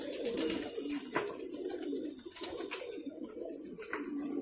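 Soft, repeated cooing of pigeons close by, low throaty calls overlapping in a steady rhythm with faint background rustle.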